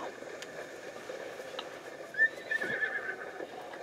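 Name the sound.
horse neighing in Breath of the Wild video game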